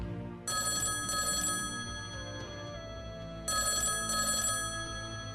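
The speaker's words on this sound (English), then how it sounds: "Until the phone rang." An old-style telephone bell rings in two double bursts with a pause between, loud and close, over soft background music.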